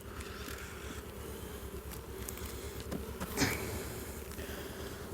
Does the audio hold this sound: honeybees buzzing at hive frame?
yes